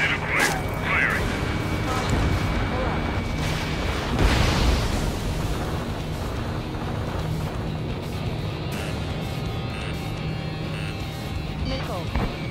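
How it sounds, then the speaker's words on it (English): Missile launches and explosions in the Ace Combat 7 combat flight game, with a rumbling whoosh and a booming burst near the middle over a constant roar of engine noise, and radio voices talking throughout. "Missile launched"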